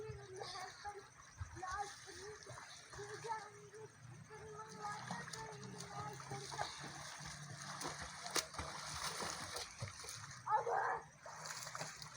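Children splash and swim in a canal, with soft water sloshing and splatter close by beneath young voices calling and talking throughout, and one louder splash near the end.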